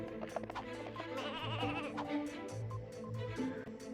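Sheep bleating in the video game Ratchet and Clank: Going Commando, repeated wavering bleats, fairly close, over steady game background sound.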